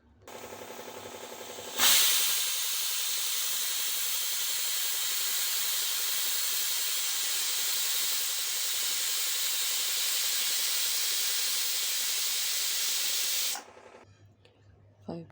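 A pressure cooker holding dal vents steam in one loud, continuous hiss that starts abruptly, runs steadily for about twelve seconds and then cuts off, close to the microphone.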